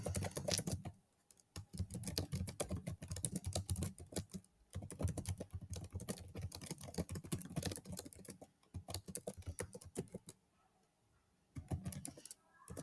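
Bursts of typing on a computer keyboard, rapid close clatter broken by short pauses, fairly quiet and with no speech.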